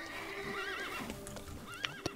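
Horses in The Thaumaturge whinny with wavering, drawn-out neighs over a low background. Two sharp, brief knocks come near the end, and there is no talking.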